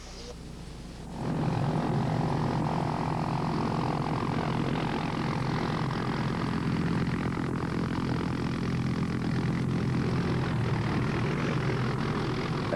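A Hughes 500 medical evacuation helicopter arrives through early morning mist in Nicaragua, its engine and rotor noise swelling after a second and holding as a loud, steady roar.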